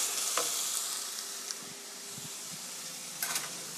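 Meat sauce stir-frying in a pan for a meat-sauce omelette, a steady close sizzle with occasional scraping and clinks of stirring, no talk.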